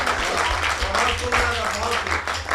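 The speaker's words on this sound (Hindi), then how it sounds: "ये तालियां मेरी कविता पे बजा रहे हो कि सहानुभूति में?" An audience at a patriotic Hindi poetry recital applauds in a dense, sustained patter of clapping, with some voices mixed in underneath.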